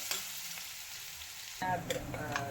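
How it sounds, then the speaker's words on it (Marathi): Cumin with garlic and ginger paste sizzles in hot oil nearby, first as a steady low fry, then bursting into louder spluttering and crackling pops. "जिरा तडतडीत फुटला पाहिजे तोपर्यंत फुटू द्यायचा लसण जिरा अद्रकचा पेस्ट घातलेला आहे"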